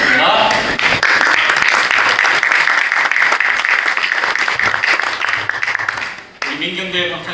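An audience at a Korean theology forum applauds to welcome two speakers, a loud sustained round of clapping that swells and then fades as a voice begins speaking near the end.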